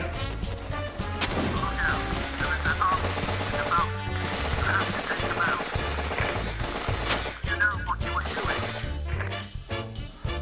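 Rapid gunfire from a virtual reality shooting game played with a haptic gun controller crackles continuously and loudly across the stretch, dense bursts of shots layered over game sound effects and music.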